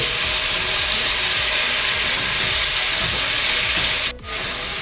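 Beef sizzles loudly as it hits a hot pan of browned garlic, a steady broadband frying hiss that fills the clip and drops off briefly near the end.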